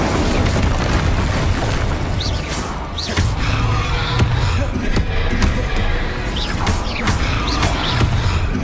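Repeated fire and ice spell blasts from Hogwarts Legacy on PS5: loud booming bursts and crackling impacts keep coming in quick succession, one after another, with sharp whooshes layered over a constant rumble and no talking.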